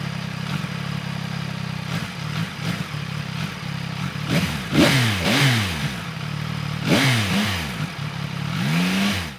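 A CF Moto NK 675 motorcycle engine idles under steady clatter and then revs through repeated rising and falling surges as it accelerates. Each pull is loud and close, with no talk over it.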